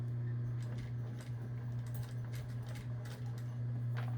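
A sewing machine stitches across a fabric necklace with a steady motor hum and a quick, regular needle clatter at close range, no talk.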